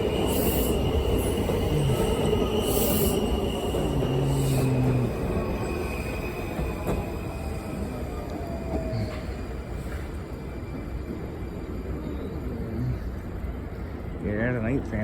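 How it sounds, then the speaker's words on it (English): A MARC commuter train led by 8000s cab car 8045 arrives, with continuous rolling rumble, squealing wheels and a brief whistle-like tone, heard close and loud throughout. "Here comes an 8000s cab car appearing from beyond us."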